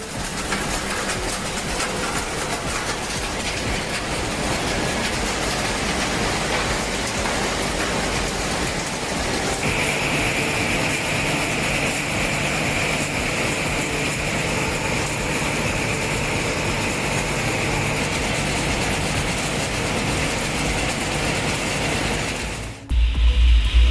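An SR400 industrial shredder grinds plastic scrap with a steady, dense, loud mechanical roar that holds unbroken for over twenty seconds, then cuts off abruptly near the end.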